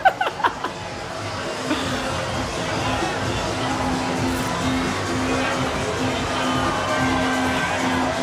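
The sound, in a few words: crowd cheering at pride parade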